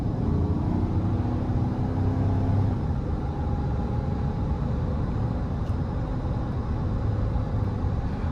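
A 2014 GMC Sierra 1500 pickup with a 5.3 V8 and six-speed automatic pulls hard under acceleration, a loud, steady engine drone heard from inside the cab with a rising whine, no voices.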